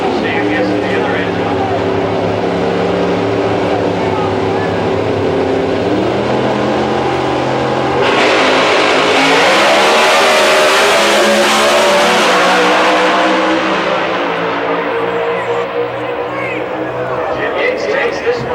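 Two Pro Stock drag race cars launch side by side at Houston Raceway Park, engines screaming at full throttle with rapid gear-shift changes in pitch, loud and sustained as they tear down the strip.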